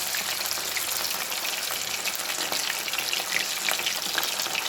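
Sardine-type fish, seven or eight at a time, fry in coconut or cooking oil with a close, continuous crackling sizzle and scattered sharp pops, and no voices.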